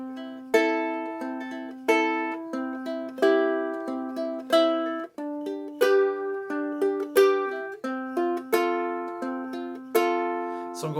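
Fingerpicked GCEA ukulele playing a repeating string 3, string 2, pinch pattern, with bright plucked notes falling in a steady rolling rhythm, close and clear, without any talking.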